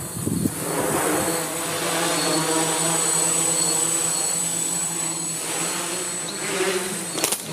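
An Aerosky C6 quadcopter fitted with an APM 2.6 controller flies nearby, its rotors giving a steady, insect-like buzzing whine that holds throughout at moderate loudness, with no voices.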